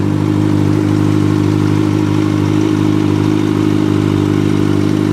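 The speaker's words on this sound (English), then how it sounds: "So now that the engine of the bike is warmed up, we are now ready to ride the bike." A warmed-up Kawasaki Ninja motorcycle engine idles steadily and loudly up close, a continuous even rumble with a faint clattering texture and no talk.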